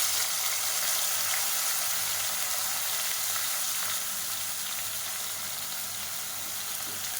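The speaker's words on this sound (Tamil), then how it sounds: "இப்போ அதில் நீளமாக நறுக்குனா பெரிய வெங்காயம் சேர்த்துக்கலாம்." Long-sliced big onions frying in hot oil in a pan for chicken kurma, a steady broadband sizzle that holds at an even, fairly loud level with no voices over it.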